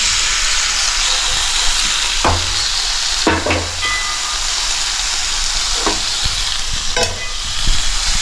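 A spoon stirs fish curry with masala in a hot pan, sizzling and hissing steadily, with scraping strokes against the pan at intervals.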